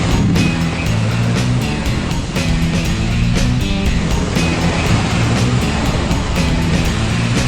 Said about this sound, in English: You get to wash off the car.